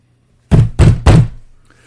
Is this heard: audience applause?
no